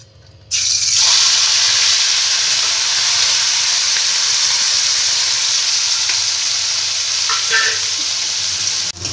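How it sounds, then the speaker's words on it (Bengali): Small shrimp rubbed with salt and turmeric hit hot oil with a sudden loud hiss, then settle into a steady, bright sizzle with a few light clinks near the end. "তেলটা গরম হয়ে গেছে, এবার মাছগুলো আমি ভেজে নেব।"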